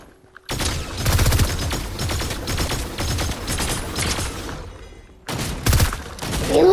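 Rapid gunfire in the battle royale game Fortnite, dense bursts of close, loud shots with brief gaps, then a second volley after a pause.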